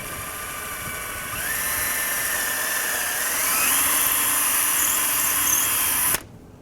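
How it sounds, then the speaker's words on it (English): A power drill whirs steadily while boring pilot holes into an arcade cabinet for a power supply, its pitch rising partway through before cutting off abruptly near the end, with no talking. "I've got a drill, so I'm going to drill a few pilot holes here."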